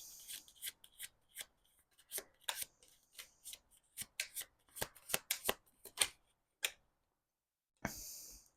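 A deck of tarot cards is handled and flipped through, with a rapid series of crisp card slides, flicks and rubs close to the microphone, a pause, then one last shuffle.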